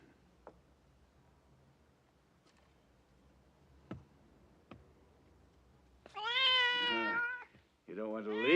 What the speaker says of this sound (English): That's a nice cat.